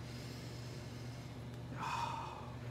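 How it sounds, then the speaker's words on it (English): A short nasal sniff at a glass of light, dry rosé wine, close and quiet over a steady low background hum. "a little sniff"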